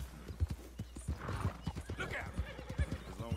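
Horse hooves clip-clop in a quick, steady rhythm in Red Dead Redemption 2, with a brief whinny, heard under ongoing talk from a player.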